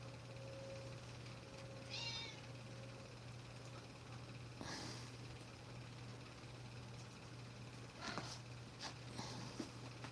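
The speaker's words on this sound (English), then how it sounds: "If you hear any meowing" A cat gives a single faint meow, followed by soft rustling and a few scratchy bumps over a steady low electrical hum.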